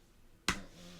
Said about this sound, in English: do you hear the slap? The clap?